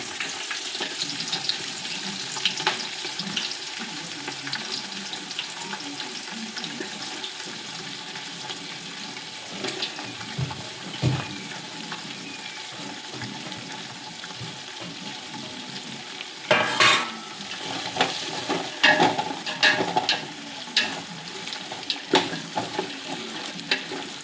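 Chopped onion dropped into hot oil in a home kitchen pan, giving a soft, steady sizzle with occasional sharper crackles and stirring scrapes partway through, close and moderately quiet.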